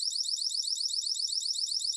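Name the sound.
wireless alarm system siren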